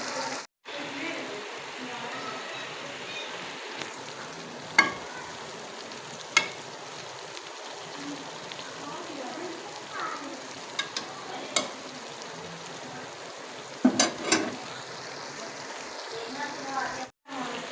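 Potatoes and bitter gourd fry gently on a low flame, a steady soft sizzle running throughout with scattered clinks and stirring knocks from the pan, and two brief dropouts in the sound.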